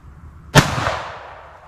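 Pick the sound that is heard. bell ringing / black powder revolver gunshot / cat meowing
black powder revolver gunshot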